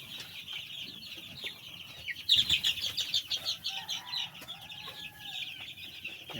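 Lemon-bloodline gamefowl chickens cluck close by in a steady chatter that swells to a louder, busier stretch in the middle, with faint farmyard noise behind and no talking.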